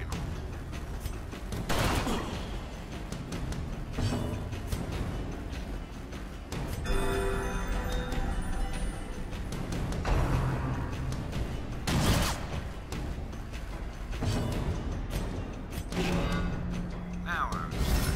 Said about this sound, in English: I say as they shoot Reynold